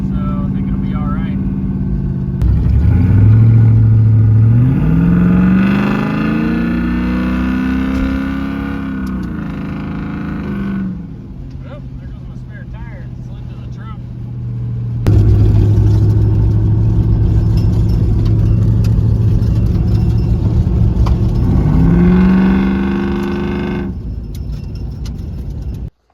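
A third-generation Camaro engine on a test drive hums steadily, revving up and falling back twice with a lull between pulls, loud and close with no voices.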